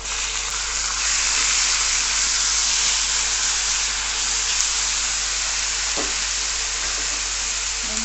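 Ground onion hits hot oil in a pan and sizzles loudly, a steady close-up frying hiss that holds evenly throughout with a small clatter near the end and no talking.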